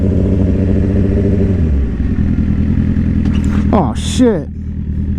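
A motorcycle being push-started downhill: a loud, close engine rumbling and clattering throughout, with a brief dip midway before it picks up again, while a voice speaks briefly over it.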